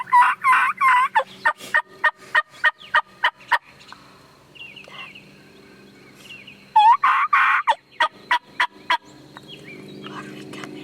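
Wild turkeys, jakes and longbeards on Tennessee public land, gobble loudly in two rattling bursts followed by rhythmic pulsing calls, close and clear, with quieter clucks and yelps between them and no talk.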